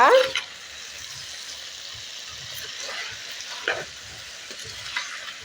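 Brinjal pachadi of eggplant sautés in a pan with a soft, steady sizzle, broken by a loud scrape at the start and a few spatula stirs later on, with no talking over it.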